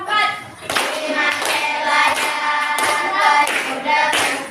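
Steady rhythmic hand clapping from a group, likely a classroom clapping routine, loud and close with repeated bursts of claps throughout.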